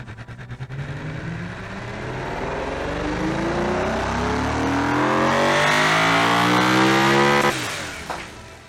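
DOHC car engine in a car-building video game revving up hard, pitch climbing steadily over several seconds to a loud peak, then cutting off abruptly.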